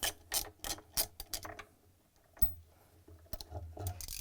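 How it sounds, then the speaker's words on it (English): A 13mm socket wrench ratchets out a bolt on a Samsung washer during tub counterweight removal, giving close, crisp bursts of pawl clicking in quick strokes, with short pauses between runs. "That would be a 13mm socket wrench."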